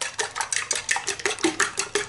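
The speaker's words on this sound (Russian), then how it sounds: "Яйца взбиваем." Eggs, with one white and no yolk, are whisked briskly in a bowl, giving rapid rhythmic clinks and scrapes of metal against the dish, close and fairly quiet with no talk.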